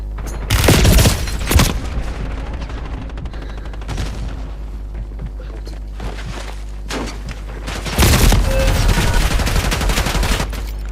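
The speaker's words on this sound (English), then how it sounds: "Grenade out!" Gunfire and grenade blasts in a multiplayer shooter video game: loud bursts of shots and booms near the start and again around the eighth second, with sustained rattling fire in between.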